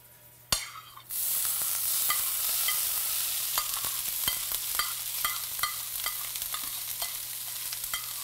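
Spoon scraping and stirring food in an oiled frying pan, a sharp clack followed by steady loud sizzling with repeated scrapes ticking through it, no voices.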